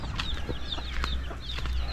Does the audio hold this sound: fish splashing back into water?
no